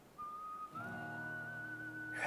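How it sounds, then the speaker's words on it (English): Whistling from the Wild West chapter of the video game Live a Live, HD remaster: a clear, steady melodic whistle that starts alone, then continues over a swelling orchestral backing. "Give me the whistling."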